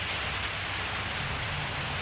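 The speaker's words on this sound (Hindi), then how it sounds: "शाम के 6:30 बज गए और इतनी तेज़ बारिश हो रही है ना" Heavy evening rain pours steadily around a house, a dense continuous hiss with a low rumble, no voices, even and unbroken throughout.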